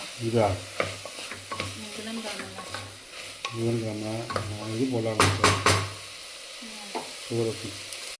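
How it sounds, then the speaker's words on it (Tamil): Tomatoes sizzle and hiss in a hot pan over high flame while a spoon stirs and scrapes now and then; a person talks over the cooking. "தக்காளி நல்லா வதங்கணும். அடுப்பு வந்து ஹை ஃப்ளேம்லேயே இருக்கட்டும்."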